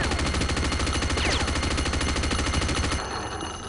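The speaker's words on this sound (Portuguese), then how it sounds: "uma das minhas armas preferidas, que era a minigun, a metralhadora rotatória" A minigun in Unreal Tournament fires a rapid, unbroken stream of shots for about three seconds, loud and dense, then cuts off, leaving a fading rattle.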